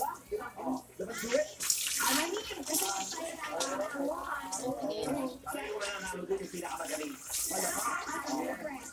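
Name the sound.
water being poured out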